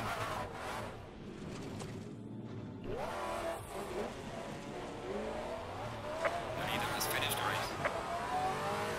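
Maserati MC GT4 race car engine in Assetto Corsa Competizione, revving up and down through gear changes with brief tire squeal, the engine note rising and falling continuously while someone talks over it.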